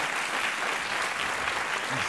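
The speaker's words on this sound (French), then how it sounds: "Je vous demande d'applaudir très très fort Christophe Godefriot" An audience at a conference event claps loudly and steadily, a dense wash of applause holding at even volume throughout.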